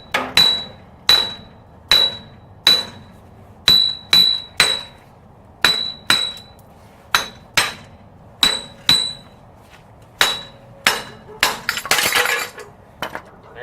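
Repeated hammer blows knocking off the wheel bearing on a 1996 Jeep XJ: about twenty sharp, ringing metallic strikes, close and loud, in uneven bursts with short pauses between.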